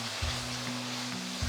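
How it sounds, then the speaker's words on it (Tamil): Three medium tomatoes, finely chopped, sauté in oil and paste in a pan for a bottle gourd dal kootu, giving a steady close sizzle and crackle with a few soft low bumps of stirring. "2-3 நிமிஷத்துக்கு தக்காளியை வதக்குங்க."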